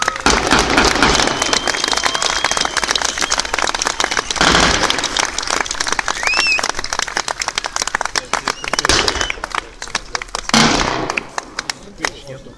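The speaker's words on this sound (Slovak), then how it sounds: "víťazné salvy, radostný pokrik a z našej strany mohutný potlesk patrí ku koncu bojovej činnosti" Victory salvos at a reenactment of the 1945 fighting for Bardejov: dense crackling volleys of blank gunfire rattle on and off, mixed with cheering and heavy applause from the crowd of spectators.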